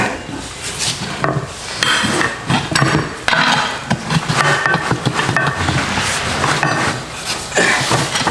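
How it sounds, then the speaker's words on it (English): Construction work on a nearby property, with steady clattering, scraping and knocking of tools and materials running throughout, moderately loud and busy in the background, with no speech heard. "Sorry for the construction noises over behind me."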